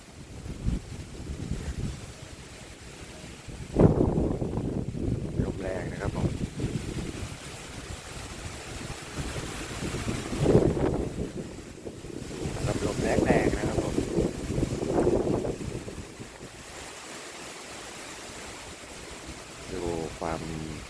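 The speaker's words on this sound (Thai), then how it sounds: "ลมแรงมาก" Very strong wind buffets the microphone in loud, roaring gusts that swell and fade across the clip, with someone talking over it at times.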